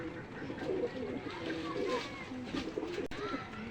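Teddy pigeons coo in soft, repeated throaty calls close by, while someone talks over them.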